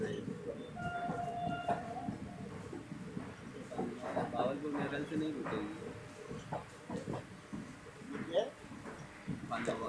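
Morning activity at Bahawalpur railway station with a train rumbling and clattering nearby, mixed with scattered clanks and crowd noise, while people talk throughout.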